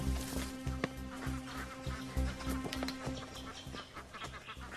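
Several ducks quack repeatedly in short, irregular bursts outdoors, fairly close, over a faint background buzz of insects, with no talk.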